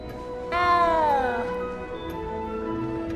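A cat meows in Hogwarts Legacy, one long drawn-out cry that rises and then slides down, clear and close over soft game ambience.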